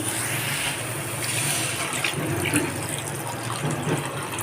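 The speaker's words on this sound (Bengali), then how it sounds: "এখন এর মধ্যে জল অ্যাড করব" Water poured into fried masala for a silver carp curry gives a steady close rush and splash of liquid that carries through the whole moment without talk.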